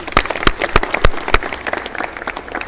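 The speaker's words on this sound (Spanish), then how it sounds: "un aplauso para mi amigo." Scattered, uneven clapping from a small audience at a horse-riding clinic, a handful of sharp individual claps standing out over a softer patter.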